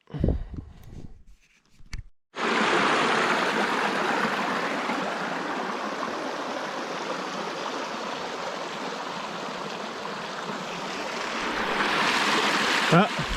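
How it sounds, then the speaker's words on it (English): A creek flows over bedrock, a loud, steady rushing wash close by that lasts most of the stretch after a brief bit of handling noise and quieter sound at the start. "I'm right down on the creek."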